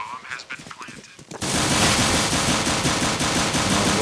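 Loud, rapid automatic gunfire from an esports video game match erupts as a continuous, dense burst after a quieter opening with faint background sound.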